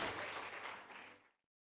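A church congregation clapping in praise, a dense burst of many hands that fades out quickly after about a second, fairly faint.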